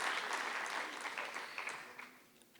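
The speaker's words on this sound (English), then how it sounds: "A big round of applause for the US Consulate and Masipala." A crowd at the 23rd Poetry Africa festival in 2019 gives a dense burst of applause for the event's sponsors. It starts full and gradually thins out over about two and a half seconds.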